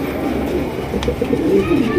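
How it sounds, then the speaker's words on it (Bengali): Low cooing from a yellow German Shield pigeon rolls along steadily over a dense background murmur, close and fairly loud, with a soft click partway through. "এখানে রয়েছে একটা জার্মান শিল কবুতর"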